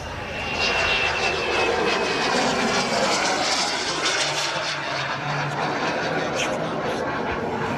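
Remote-controlled model aircraft flying past at the LMA Elvington airshow, a steady engine drone with a high whine that sweeps across as it passes, moderately loud and continuous.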